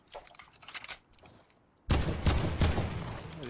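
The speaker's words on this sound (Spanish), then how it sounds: "He disparado que no vengan hacia acá." Gunfire rings out in a trios match of a battle-royale shooter game, a burst of sharp loud shots starting partway through after quieter clicks and faint rustling.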